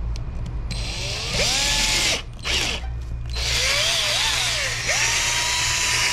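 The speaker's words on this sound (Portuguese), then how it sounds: "Vou fazer o furo do lado, certo?" An electric drill bores a hole beside the door lock of a Volkswagen Parati, whining loudly in bursts with pitch sweeps as the motor loads and eases, broken by a couple of brief pauses.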